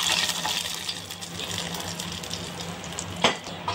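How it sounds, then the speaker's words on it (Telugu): Hot spiced tempering with curry leaves poured into watery buttermilk, a close hiss and bubbling splash running through the whole moment with a sharper burst near the end. "ఇప్పుడు ఈ పోపుని మనం మజ్జిగ నీళ్ళల్లో వేసుకోవాలి ఫ్రెండ్స్"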